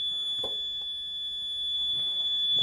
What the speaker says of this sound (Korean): 자, 시끄러우니까 부저 정지.